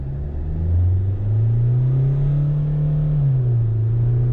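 A SsangYong Musso Grand SUV, set to drive with no sport gearbox mode, accelerates flat out in a 0-100 run. A steady, loud engine drone rises in pitch, dips briefly at a slow gear change, then climbs again, with no talk.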